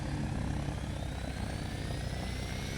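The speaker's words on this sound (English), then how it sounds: "Go for a VTOL takeoff this time." Steady, loud engine roar from a VTOL aircraft, the XF14D, powering up for a vertical takeoff in a flight video game, a continuous whine with rising tonal sweeps over a dense low rumble.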